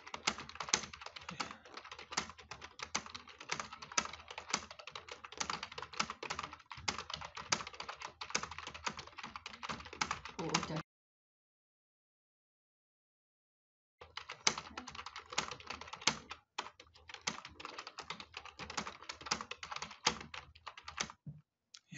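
Rapid, steady typing on a computer keyboard during an online English typing test, with dense key clicks running continuously, breaking off into silence for a few seconds, then resuming at the same brisk pace.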